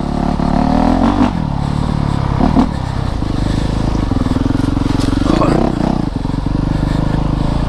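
2019 Honda CRF450RX dirt bike accelerating hard through the gears close up, a loud rasping engine note that rises, drops at each shift and climbs again, with clattering and scraping over it.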